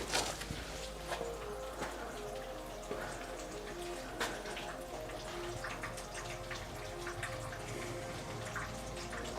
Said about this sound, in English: So I'll drain it from the radiator here. Hope it'll stop dripping.